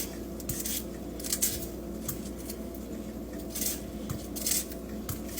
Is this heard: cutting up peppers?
yes